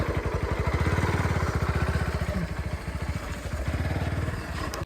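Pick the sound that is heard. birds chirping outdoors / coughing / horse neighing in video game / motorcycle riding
motorcycle riding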